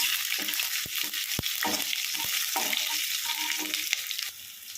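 Whole spices crackle and sizzle in a small amount of hot oil, a steady broadband frying hiss with a few sharp pops and light stirring, close and fairly loud, easing off at the very end.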